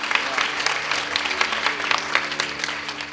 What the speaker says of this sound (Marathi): टाळी वाजा त्यांच्याकरता